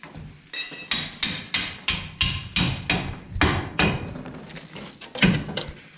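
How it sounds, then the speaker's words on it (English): A hammer pounds repeatedly in a steady rhythm during rear axle replacement on a 2006 Ram, about a dozen sharp, close blows with slight ringing, no talking. "We're gonna need that hammer."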